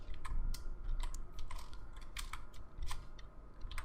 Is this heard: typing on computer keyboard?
yes